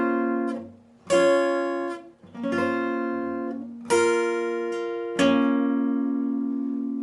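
Guitar picking out a song's verse slowly, with five separate chords or arpeggiated strums that each ring out and decay before the next one, played alone and close.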